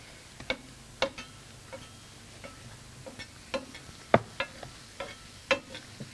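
Greek pancakes frying in a pan give off a quiet background sizzle punctuated by sharp irregular taps and clicks of a utensil against the pan, close and fairly soft, with no talking.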